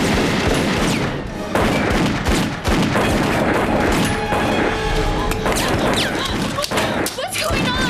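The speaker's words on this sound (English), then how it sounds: "Those kids must have brought fireworks or something." Loud bangs and crashes fill the cabin of an airplane in a film scene, resembling fireworks going off: dense, continuous blasts with sharp impacts and clatter, no pause throughout.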